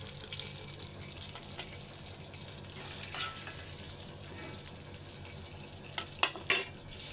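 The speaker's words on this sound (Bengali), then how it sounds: "সুন্দর করে দেখো পারফেক্টভাবে ভাজা হয়ে গেছে" Pointed gourd (potol) slices fry in oil in a pan with a steady, moderate sizzle and a few brief utensil clinks and scrapes near the end.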